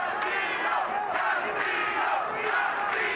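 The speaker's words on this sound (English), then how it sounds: "Crowd is chanting, Castillo, Castillo." A large boxing crowd at the MGM Grand chants a fighter's name during a championship bout, a dense, loud, continuous roar of voices with rhythmic rising swells throughout.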